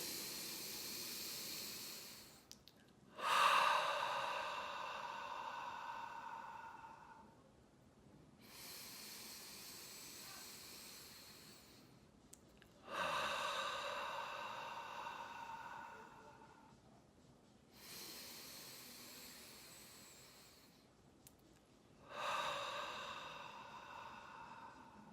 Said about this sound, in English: 3 breaths, in through the nose